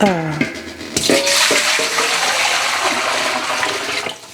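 Tap water runs hard into a heavy pan, a steady rushing splash after a brief sound at the start, close and loud throughout.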